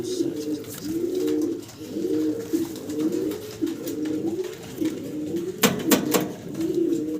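Fancy pigeons, two Uzbek females, coo in a steady, repeated series of soft rolling calls close by, one after another in an even rhythm, with a few brief clattering noises near the end.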